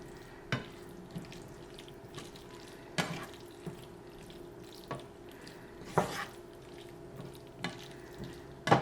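Corn noodle pasta being stirred in a pan, with wet squelching and occasional sharp clanks of a utensil against the pan, close and fairly quiet with no talking.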